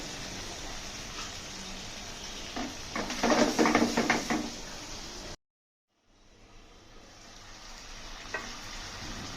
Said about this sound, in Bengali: এবার সামান্য একটু পানি দিয়ে দিব